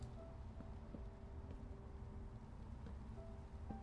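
Continuous Minecraft rain, an even soft wash of patter with no breaks, accompanied by faint sparse musical tones in the background and no talking.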